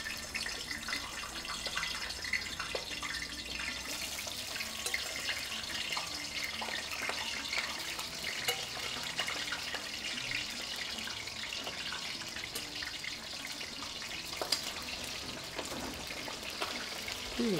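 Plantains frying in hot oil give off a steady, even sizzle and crackle, close and moderately loud, with scattered sharper pops throughout and no one speaking.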